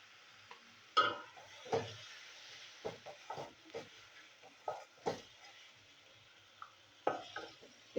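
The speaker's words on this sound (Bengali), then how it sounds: "এই মটরশুঁটিগুলো আমি এর সাথে একটু কষিয়ে নেবো, একটু কষানো হোক।" Peas being stirred and fried in spiced tomato paste in a pan: scattered scraping and clinking spoon strokes against the cookware, irregular and close, over a faint sizzle with no talking.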